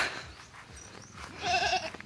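A goat on a farm bleats close by, a short wavering cry that rises near the end amid light background noise.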